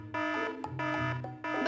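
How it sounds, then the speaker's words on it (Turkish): An alarm sounds in an animated children's show, three loud repeating electronic blasts with short gaps between them, bright and tonal, with no talking over them. "Bakın, alarm da öttü"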